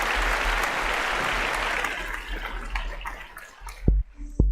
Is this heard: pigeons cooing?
no